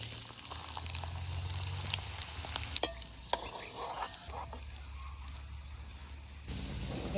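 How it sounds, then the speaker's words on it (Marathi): Chopped onion dropped into hot oil, sizzling and frying steadily up close with a few sharp clinks of a utensil against the pan, the hiss rising and settling as it is stirred. "तेल गरम झालं टाकतो कांदा"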